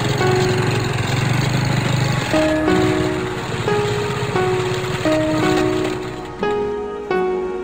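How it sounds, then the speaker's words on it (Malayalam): A cartoon motorbike engine hums in a steady, buzzing drone that steps up and down in pitch, loud and alone with no voices. "ബൈക്ക്"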